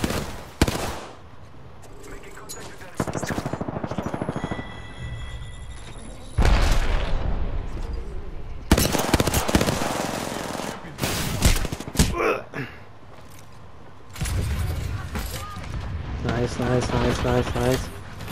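Gunfire in the Apex Legends video game, rapid bursts of automatic shots crackling in several clusters, loud and close, mixed with game effects and with people talking over parts of it.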